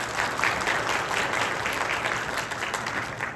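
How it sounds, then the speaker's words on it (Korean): Forum audience applauding sponsors at a corporate event, a steady dense wash of many hands clapping in a large hall, even and sustained throughout with no voices over it. "박수 한번 부탁드리겠습니다."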